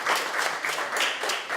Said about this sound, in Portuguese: gostaria de pedir uma salva de palmas a todos que estiveram conosco esse dia